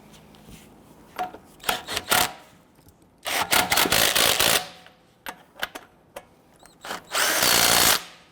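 A power tool spins on the wheel lug nuts of a 2007-2014 Cadillac Escalade, giving several short whirring and rattling bursts of varying length with brief pauses between, close and loud, with no talking.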